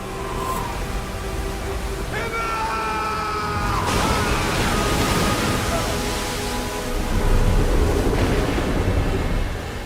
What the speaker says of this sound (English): The storm was more than any ship could withstand.